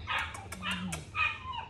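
Excited puppy yipping and barking in short bursts up close while being held and jumping on a man, with people talking and laughing over it.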